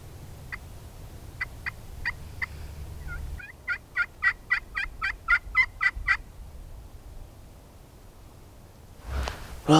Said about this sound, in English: I only heard one gobble the whole night